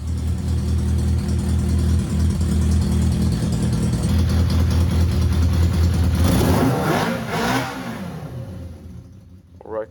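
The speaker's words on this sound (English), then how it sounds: "It still makes this weird sound, like a ticking sound, that you think is from the engine, but it's actually from a rust hole in the exhaust." A Yamaha XJ 400 motorcycle engine runs close by with a loud, steady throb, its rusted, holed exhaust adding a ticking beat. Near the end the revs rise and fall, then the sound drops off.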